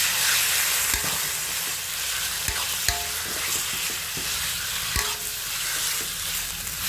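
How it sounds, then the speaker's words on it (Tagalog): Chicken breast sautés with onion and garlic in a hot pan, giving a loud continuous sizzle punctuated by several crisp spatula clicks and knocks as the pieces are stirred. "Tapos isangkot sa ko siya ng maigi hanggang mag-brown."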